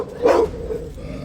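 A pack of pit bulls barks aggressively, with one sharp, loud close bark rising out of a noisy background, followed by fainter trailing yelps.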